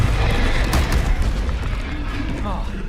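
A Confringo blasting spell explodes in Hogwarts Legacy, a broad rumbling blast with crackling debris spread across the moment, while a voice speaks over it.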